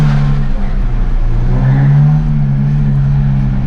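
A drift car engine revs hard and accelerates, a loud, steady low drone that swells and holds near the listener without a break, with no talk over it.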